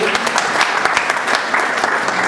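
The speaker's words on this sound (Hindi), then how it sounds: "हम लोग ताली बजाएंगे सभी" An audience claps steadily at a concert, a dense, close wash of applause that continues throughout with no break.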